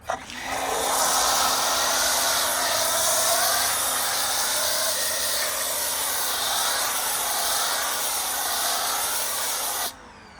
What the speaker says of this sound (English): I think it works excellent right there for applying the wheel cleaning foam